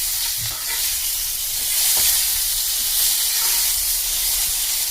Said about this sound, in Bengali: টমেটোগুলো ভাজবো, যতক্ষণ না নরম হয়ে যাচ্ছে ততক্ষণ এগুলোকে ভেজে নিতে হবে।